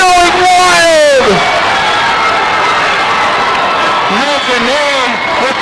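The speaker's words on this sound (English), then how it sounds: "We're going to overtime, and the crowd is going wild" A crowd at a high school boys basketball game between Garden City and Guymon roars wildly as the game heads to overtime, a loud sustained din of cheering and shouting under excited commentary.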